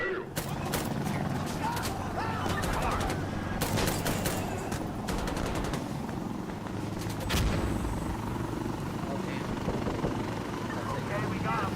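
A helicopter's steady rotor drone in a multiplayer shooter game, running continuously and fairly loud beneath dense bursts of nearby gunfire and volleys of shots.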